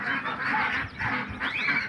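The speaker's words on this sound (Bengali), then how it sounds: "তখন থেকে খাবো বলে pack pack pack pack pack pack করেই যাচ্ছে" Domestic ducks waiting to be fed quack insistently up close, several loud nasal calls running together in quick succession with no talk.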